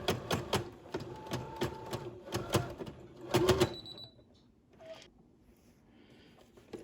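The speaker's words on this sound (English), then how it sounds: "so we're going to make our straight stitch right across." A sewing machine runs a straight stitch across a fabric face mask in short rhythmic bursts, close and moderately loud, then stops and leaves quiet handling noise.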